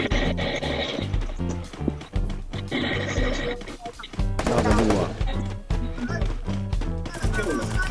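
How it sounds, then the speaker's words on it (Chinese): Rapid gunfire bursts from the mobile battle game Free Fire, sharp repeated shots in clusters over game music and effects, with players talking at moments. "我听到我的枪声"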